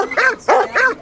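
A Bundeswehr military service dog at the Tag der Bundeswehr 2022 event in Warendorf gives three sharp, loud barks in quick succession, close and clear.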